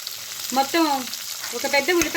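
One large chopped onion fries in a pan with a close, steady sizzle and some stirring.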